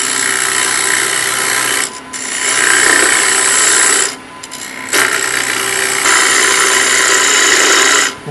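A bowl gouge cuts into wood spinning on a lathe for egg turning, a loud continuous rasping shear broken by two short pauses as the tool lifts away.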